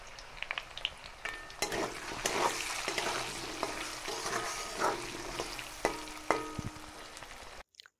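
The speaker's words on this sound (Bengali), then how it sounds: "সাদা জিরে ফোড়ন দিয়ে আলুটা একটু ভেজে নিচ্ছি।" Potatoes fry in hot oil with cumin seeds, a steady soft sizzle broken by occasional scrapes and stirs of a spatula in the pan, with no talking.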